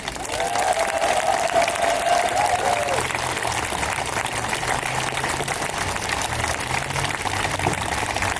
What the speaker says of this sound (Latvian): milzīgi aplausi organizatoriem